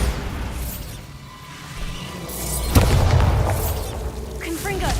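The Bombarda blasting spell detonates in the Hogwarts Legacy video game, a loud booming explosion hitting midway and rumbling on over other game sounds, with short voice-like calls near the end.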